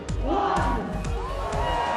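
Crowds gathered in Trafalgar Square, London, to watch Team GB members start a countdown cheer and shout together, with a few sharp bursts over a moderate, distant-sounding roar.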